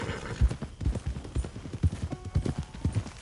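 Horse hooves clip-clop at a walking pace in a video game, a steady run of close hoofbeats heard alone with no talk over them.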